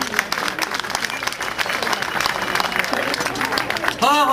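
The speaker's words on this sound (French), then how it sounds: "Vous pouvez applaudir." Audience applause at the 50th anniversary ceremony of the Port autonome de Papeete: a sustained, dense clapping from a large crowd, fairly loud and even, with a voice breaking in at the end.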